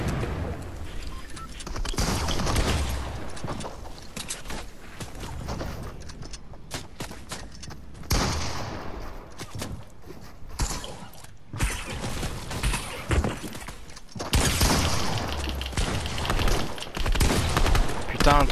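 Repeated bursts of gunfire in the Fortnite video game, loud and dense throughout, with rapid volleys coming and going while players talk over the action.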